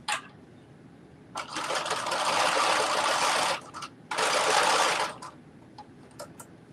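A sewing machine runs a zigzag stitch on top fabric in two steady whirring bursts of a few seconds each, close and loud, divided by a short pause, with faint handling clicks before and after.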